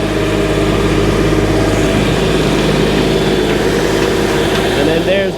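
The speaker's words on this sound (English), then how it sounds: "Your engine is here on the back." A sprout and beetroot harvester's engine runs steadily in a muddy field, a loud continuous mechanical drone with rattling machinery, unbroken from start to finish.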